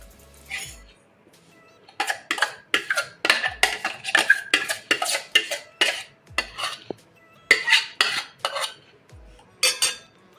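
Juice mix for a fruit drink is shaken hard in a container, giving a run of loud, rhythmic rattling bursts with clinks, followed by more shaking and a brief pour, no talk.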